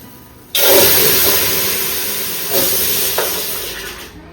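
Hot beef broth rich with fat gushes into a measuring vessel, a sudden loud rushing pour that starts abruptly and streams on steadily, tapering slightly with small splashy surges.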